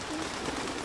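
Racing pigeons cooing inside a loft, a soft continuous burbling murmur heard up close for under a second.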